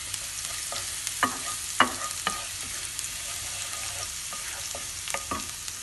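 Garlic sizzling in hot oil in a pan for sautéed tomato with egg, a gentle continuous fry broken by several sharp spatula taps and scrapes, close and fairly quiet, no talking.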